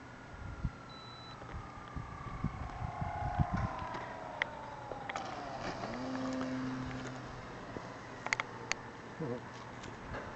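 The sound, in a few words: Hobby King J-3 Cub RC model plane flying after takeoff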